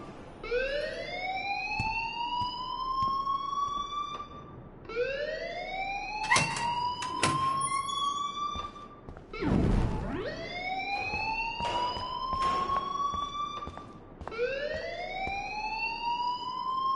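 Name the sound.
alarm ringing in video game Life is Strange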